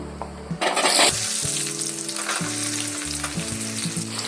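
Hot oil with mustard and fenugreek seeds sizzles loudly, then flares into a sharp crackling hiss as chopped shallots are dropped into the pan, settling into steady frying with occasional stirring clinks.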